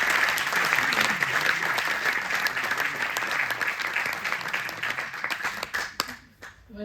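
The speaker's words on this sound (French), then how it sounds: "Eugénie, applaudissez-la bien sûr" Audience applause at a French digital preview screening event, steady dense clapping from a crowd that carries on for about six seconds, then thins out and fades near the end.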